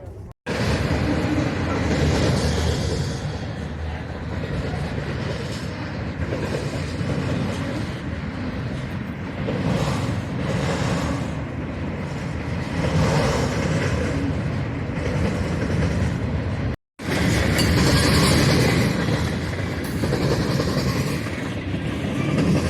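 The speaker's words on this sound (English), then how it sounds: "This is called a junk train. It's called junk because it's mixed." A mixed freight train rolls steadily past, a continuous rumbling clatter of wagons on the rails lasting throughout, with a brief dropout near the end.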